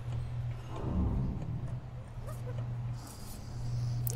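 Dog in the prison-management game Prison Architect, a guard dog giving a few short barks and whimpers amid a steady low game hum, with some faint background sound.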